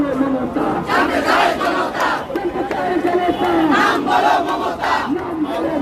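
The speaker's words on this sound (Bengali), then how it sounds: "আমরা দেখছি এই মুহূর্তে তারা স্লোগান দিচ্ছেন" A large crowd of protesters chants slogans in loud, rhythmic bursts at a street rally and march demanding justice for the killing of Sharif Osman Hadi, with voices surging and falling together.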